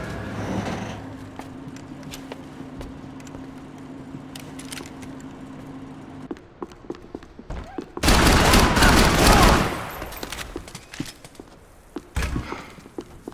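Gunfire in the Max Payne 3 shooter game, with scattered shots, a sustained loud burst of fire in the middle and more sharp shots afterward, while voices talk in between.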